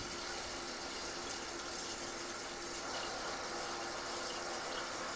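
Water rushing steadily from the opened drain valve of a Rheem heat pump water heater, flushing out bottom sediment; a constant loud hissing gush with no pauses, no talk.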